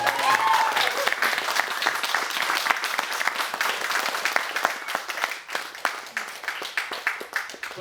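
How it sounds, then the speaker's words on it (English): A festival audience at an acoustic music event gives a warm round of applause, many hands clapping in a dense, sustained burst that gradually loosens into scattered claps toward the end. "So let's give them all a great big round of applause."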